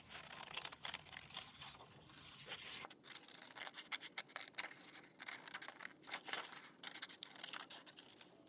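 Scissors snip through paper while a paper bunny is cut out, a run of close, quiet crisp cuts with rustling and brief pauses as the sheet is turned.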